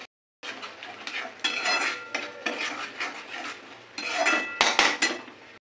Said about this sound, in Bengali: কাজু বাটা আছে, সেই জন্য আমাকে একটু খুব অনবরত নেড়ে যেতে হবে